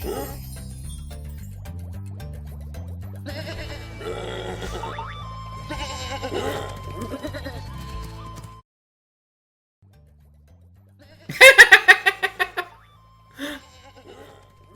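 A cartoon sheep in the video game Spyro 2: Ripto's Rage gives a quick, quavering bleat in short pulses, heard after a stretch of game music and a brief silence, followed by a softer second bleat.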